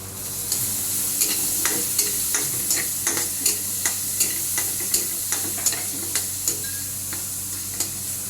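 Buttered garlic shrimp fry in margarine over low heat, a constant sizzle with regular stirring taps and scrapes of a utensil against the pan, no talk.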